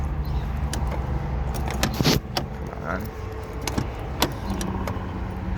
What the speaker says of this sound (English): This lock likes to stick.